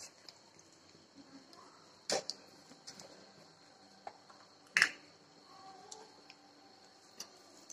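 Mustard seeds and asafoetida crackling in plenty of hot oil while tempering for a spicy raw mango pickle; a handful of scattered, faint pops and sharp clicks with quiet gaps in between.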